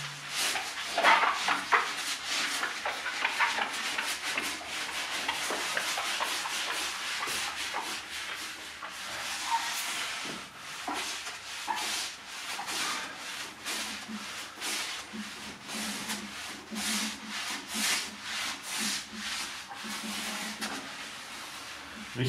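A coarse sponge is rubbed over a car's painted surface, making a continuous, faint scratchy scrubbing in repeated strokes.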